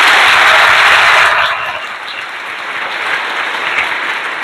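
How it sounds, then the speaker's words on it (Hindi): Audience applause for a maths teacher at a coaching class in Bihar Sharif: dense, loud clapping that is strongest at first, then eases to a steadier, slightly softer patter before swelling again at the end. "सर के लिए एक बार तालियां होनी चाहिए"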